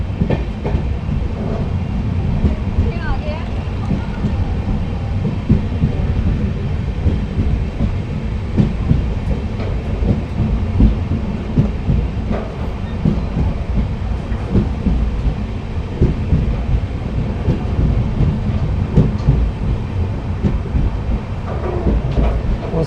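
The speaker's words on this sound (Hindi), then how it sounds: "अच्छी रफ्तार के साथ आगे बढ़ती हुई हमारी अमृतसर बीकानेर एक्सप्रेस 17420" Amritsar–Bikaner Superfast Express 14720 runs at speed, producing a loud, unbroken roar of wheels on rail with dense rattling clatter and no voices throughout.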